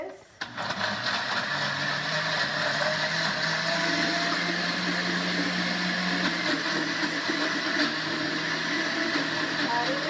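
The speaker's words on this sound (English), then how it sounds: "I'm gonna add it to my blender and keep on going." A kitchen blender purees tomatillos for pork chile verde, a loud steady whir running almost nonstop after a brief start, close and dominant throughout.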